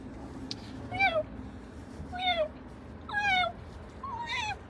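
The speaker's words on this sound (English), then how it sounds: "we have connected with the cat doing that cat sound" A cat meows four times in a row, each call a clear rising-and-falling meow spaced about a second apart, close and fairly loud over a low background hum.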